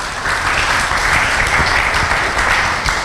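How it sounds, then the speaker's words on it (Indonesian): Steady applause from an audience at a full moon meditation gathering, dense and continuous for about three seconds at close range, easing slightly near the end. "tepuk tangan."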